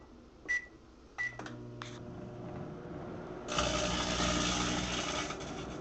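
A microwave oven heats a plastic bag with a plastic twist tie inside: a low hum and a few sharp clicks, then a sudden loud crackling burst of sparking and burning that carries on to the end.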